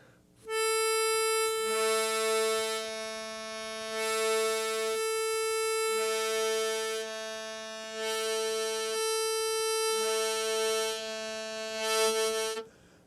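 Harmonica 4 blow played with a tongue block trainer, a steady reedy chord sustained throughout with lower octave notes dropping in and out in three repeated phrases, loud and alone.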